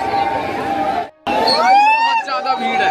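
A large crowd chatters at the Creator Carnival 2023 entry, a big Indian YouTubers' meetup; close, dense babble of many voices runs throughout, broken by one brief moment of near silence, with a nearby voice speaking over it.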